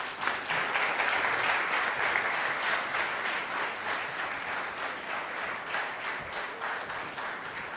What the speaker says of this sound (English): Request everyone to please welcome him with a round of applause.